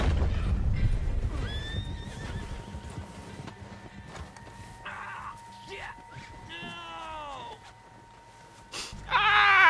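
A horse in Red Dead Redemption 2 whinnies in several short, rising cries of varying pitch, fairly close and loud, heard among low game sounds.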